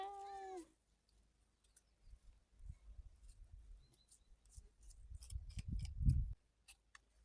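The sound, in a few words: cat meowing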